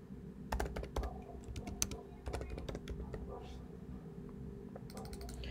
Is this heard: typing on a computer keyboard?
yes